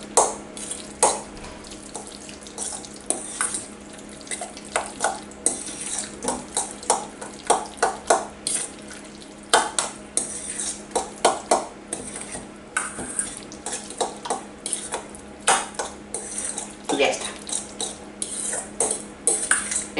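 Spoon stirring and scraping ricotta cheese filling in a bowl, a run of irregular close clinks and knocks against a faint steady background hum.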